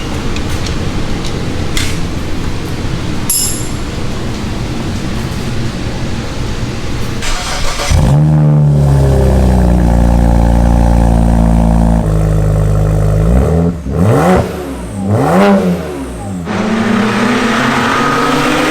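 Car fitted with a new performance exhaust at a performance shop, idling at first and then revving hard in loud, close bursts that rise and fall, with a few sharp throttle blips near the end.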